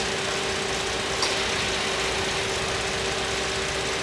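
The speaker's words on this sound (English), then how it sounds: "it's cycling on and off, the compressor's cycling on and off fairly regularly." A car engine idles steadily with a constant mechanical whir and hum while the air-conditioning compressor runs, a close, even drone with no voices.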